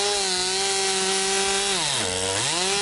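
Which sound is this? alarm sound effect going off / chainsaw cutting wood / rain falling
chainsaw cutting wood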